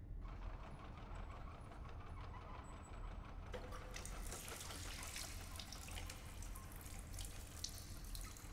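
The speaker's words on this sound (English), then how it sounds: "So I wonder if we turn the water on, if that'll flood." Tap water running steadily into a sink clogged with a dirty bandage in the game STASIS, a continuous hiss and splash that grows brighter and fuller partway through, with no talk.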